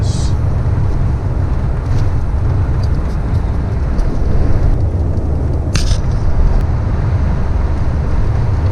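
An outback road train truck hauling four trailers rolls past on an Australian highway, heard as a steady loud roar of engine and road noise with heavy wind buffeting throughout.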